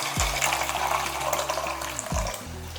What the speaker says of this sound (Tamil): இன்னொரு அரை கப்பு தண்ணியை நம்ம என்ன பண்ணலாம் சுடு தண்ணியை ஊற்றிக்கலாம்